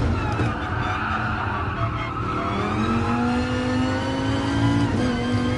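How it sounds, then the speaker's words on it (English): A high-revving V10 race car engine in Gran Turismo Sport screams steadily, its pitch sliding up and down through gear changes, loud and continuous without any voices. "beautiful V10 sound"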